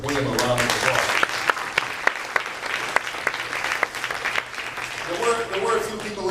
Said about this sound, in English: Give William a round of applause.